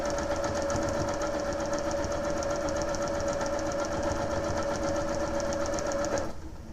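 A sewing machine with a regular quarter-inch foot stitches paper-pieced quilt units in a fast, even mechanical whir. The run is steady and close, then stops abruptly near the end.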